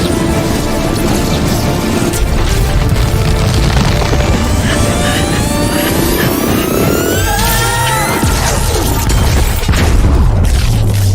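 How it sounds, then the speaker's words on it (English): A giant blue cartoon explosion in a Sonic the Hedgehog game setting, a loud sustained booming roar with rising whooshing sweeps and crackling bursts, dense and continuous throughout with no talking. "I'm sure no one noticed that giant blue explosion"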